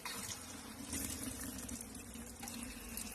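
Water gushes steadily from a tap fed by a pump while feeders are filled for bee feeding, a close, continuous splashing rush with no talk.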